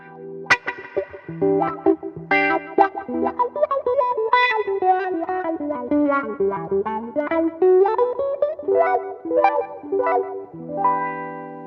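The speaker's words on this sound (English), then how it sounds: "I think it's most classic wah sound, and I kind of want that classic wah sound." An electric guitar plays a wandering phrase through a wah pedal, its tone sweeping up and down as notes ring with distortion and slight echo.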